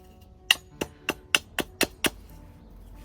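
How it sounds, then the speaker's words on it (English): A Darien machete chips wood while carving a spoon, striking seven sharp, evenly spaced knocks at close range, each short and crisp, with quiet gaps between. "now I'm just gently chipping away just to get that as flat as possible"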